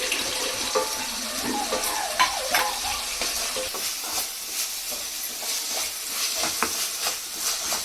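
Crushed tomatoes go into a hot frying pan for pepper chicken and get stirred, making a busy, close sizzle broken by scraping and clattering that stays steady throughout.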